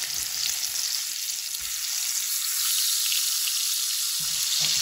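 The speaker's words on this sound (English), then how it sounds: "Because we're gonna start basting the butter over the salmon." Butter sizzles and fries steadily in a hot pan while salmon sears, a loud, continuous close-up hiss with slight stirring shifts and no talk.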